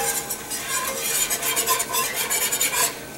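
Flour cooks in a pan for a chicken pot pie roux, a loud, close, continuous scraping stir with rhythmic swishes of a utensil over a soft sizzle.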